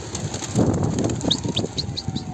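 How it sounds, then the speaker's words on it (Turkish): Red-winged bango pigeons flutter near a coop: wings flap in soft bursts and a run of five short, bright chirps repeats evenly over a low background rumble. "Çok güzel bir kırmızı kanat bango bakın orada."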